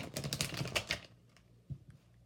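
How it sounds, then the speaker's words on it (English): A quick, dense burst of crisp papery flicks and taps as tarot cards are shuffled, close up, lasting about a second before trailing off into a couple of soft knocks. "do a quick shuffle"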